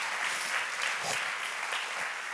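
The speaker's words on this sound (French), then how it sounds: "Can we applaud the worship team?" An audience at a church service applauds the worship team, a dense steady wash of clapping filling the room throughout, fairly loud and continuous.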